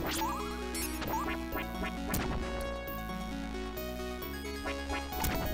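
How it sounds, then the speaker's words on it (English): Striking a candle and a crow at the same moment in the video game Castlevania Bloodlines produces overlapping chiptune effects: harsh crashing hits and squawking blips layered over continuous game music. "The collision of sounds when you hit the candle and the crow at the same time"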